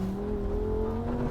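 A Lamborghini Huracán Sterrato V10 supercar drives off-road, its engine droning close and steady with a slowly rising pitch under acceleration.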